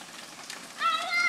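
Rain falling outdoors in Florida, a steady broadband patter, with children's voices and shrieks rising over it toward the end.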